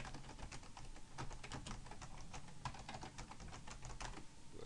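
Rapid typing on a computer keyboard, a steady stream of quiet close key clicks with no talking.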